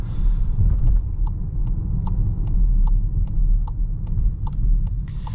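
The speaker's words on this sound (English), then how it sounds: "The engine note on this vehicle" A 2022 Volkswagen Atlas Cross Sport SEL Premium R-Line under way on the road, its engine giving a steady low rumble with road noise and faint regular ticks running throughout.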